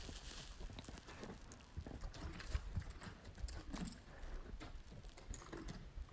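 A green, newly started Mustang horse walks forward at a relaxed pace during ground driving, with soft, irregular hoof clip-clops over steady outdoor background noise.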